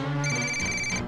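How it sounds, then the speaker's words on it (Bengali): A cartoon telephone rings with a short, bright electronic ringtone, a single close tonal burst lasting about a second. "তখনই ওর কাছে ফোন আসে।"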